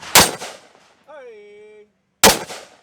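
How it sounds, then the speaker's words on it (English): Two sharp, loud gunshots from a firearm at an outdoor shooting event, one at the start and one near the end, each with a decaying tail, separated by a brief tonal ringing hum. "Shoot us something close, Tim."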